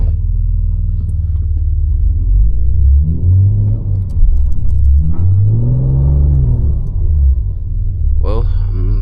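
A BMW G80 M3 Competition xDrive with stability control off sits stuck in deep snow during a snowstorm, its engine revving in rising surges under a heavy low rumble as the wheels spin.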